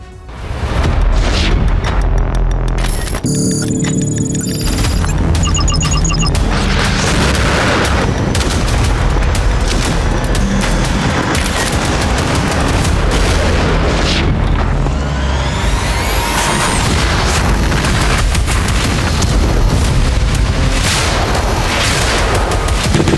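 Heavy wartime explosions and artillery fire around Kursk, a loud, continuous barrage of booms and gunfire with rumbling blasts overlapping throughout, no voices.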